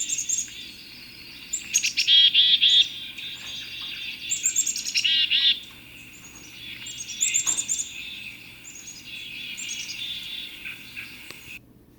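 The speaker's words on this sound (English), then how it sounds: "This is a black-capped chickadee." A black-capped chickadee sings its buzzy, repeated call in short bursts over a steady background of crickets and other faint birds, fairly close.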